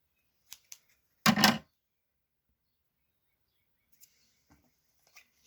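Scissors snip the excess clear strip off a false eyelash strip: one short, crisp cut close by, preceded by two faint clicks, in an otherwise quiet room.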